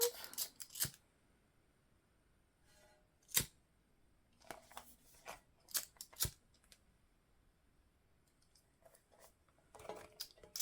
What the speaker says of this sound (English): And then trim our seam allowance nice and tight.